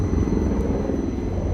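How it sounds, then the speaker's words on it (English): Helicopter passing over Hoboken Terminal, a steady low rotor thrum and rumble at moderate distance with faint station hum beneath. "We got a helicopter."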